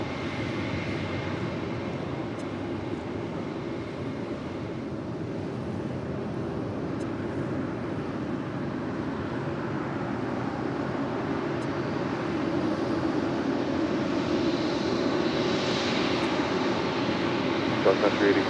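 A jet airliner roars on takeoff from runway 25 right at Los Angeles International Airport, a broad sustained engine rumble heard from a distance that swells toward the end.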